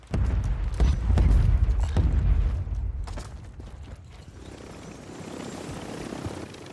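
Helicopter in Warzone 3, its rotor thumping in a loud, heavy churn at first and then fading to a softer, more distant whir, with scattered mechanical creaks and no voices.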